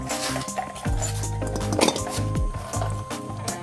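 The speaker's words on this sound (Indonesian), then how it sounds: "teman-teman dipotong dulu pipa ini nih. Dipotong jalan." A copper evaporator pipe in a punctured refrigerator is cut before welding, giving repeated close metallic scrapes, clinks and grinding bursts at an uneven pace, with no talk.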